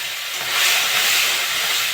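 Sliced onions go into hot oil already frying with panch phoron and neem leaves, for a shrimp and ash gourd shukto. A loud, close, steady sizzling hiss swells briefly and then holds, with no talk.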